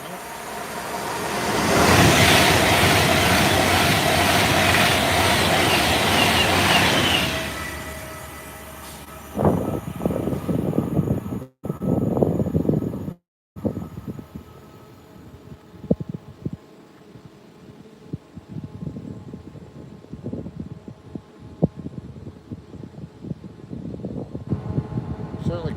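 A Pendolino train rushes past nearby as a loud, broad roar of wind and rolling wheels that swells and then fades after several seconds, followed by rattling noise and intermittent voices.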